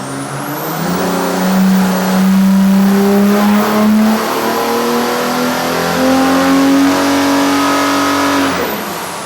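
OM606 diesel engine revving on an engine dyno, loud and close, climbing steadily in pitch through a sustained pull, then easing back down near the end.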